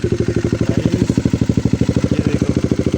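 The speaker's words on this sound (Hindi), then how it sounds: "अब बाइक स्टार्ट करते हैं।" A Bajaj Dominar 400 motorcycle with its exhaust removed runs loud and close, a rapid, even, hard-edged thumping pulse that continues steadily throughout.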